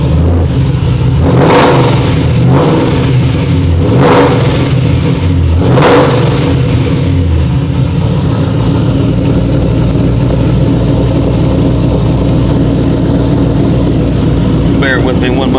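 A 728-horsepower 2011 Chevrolet Camaro V8 with a Whipple supercharger, headers and Borla exhaust revving nearby, four sharp throttle blips in the first seconds, then a loud rumbling idle.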